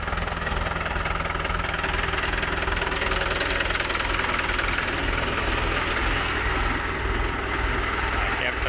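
A tractor engine drives a water pump on a farm field, a loud, close, continuous diesel knock and rumble that stays steady throughout.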